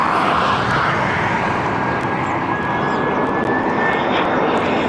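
A Vueling airliner in Cantabria livery arrives on runway 24R, its engines giving a steady, loud roar that holds at the same level throughout the clip.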